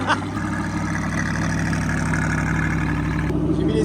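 An Audi R8 engine idles while warming up, a steady, loud, low rumble with an even pulsing drone and a brief blip at the start.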